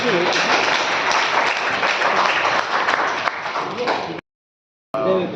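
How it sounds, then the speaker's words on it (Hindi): Loud, sustained applause from an audience at a newspaper edition launch ceremony in Delhi, broad clapping filling several seconds before a brief silent gap, then resuming. "जोरदार तालियां बजा दीजिए आप लोग।"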